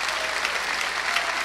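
Audience applause for a country musician and his band at the 2006 PEIMAs awards show, a dense, continuous wash of clapping filling the hall at steady loudness.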